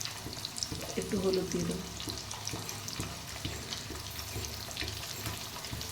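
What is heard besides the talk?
taro frying in pan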